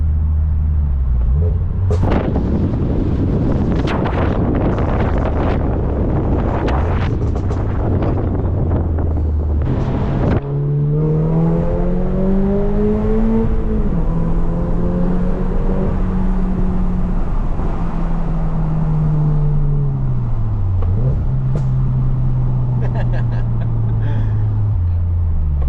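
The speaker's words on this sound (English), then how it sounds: "We're gonna see what the Remark exhaust sounds like on Alan's 86." A Toyota GR86 fitted with a Remark exhaust drives past close by, its loud droning exhaust note rising and falling through gear changes under heavy wind buffeting.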